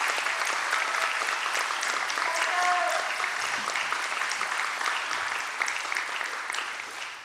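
Sustained applause from an audience at a town swearing-in ceremony for the mayor and council, steady and fairly loud throughout before tapering off at the end.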